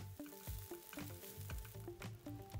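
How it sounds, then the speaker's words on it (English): Rice fries and is stirred in a pan for kimchi fried rice, giving a steady close sizzle with repeated scraping and tapping of a spoon against the pan and no talk. "Separate the rice well with a spoon and incorporate with the rest of the ingredients"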